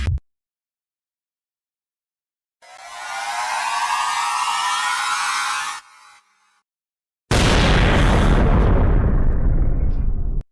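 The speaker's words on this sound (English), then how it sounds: "A very powerful explosion." A powerful sci-fi explosion destroys a spaceship in orbit: a long, loud roaring blast with a rising hiss, a brief gap, then a second harsh, crackling burst that slowly fades.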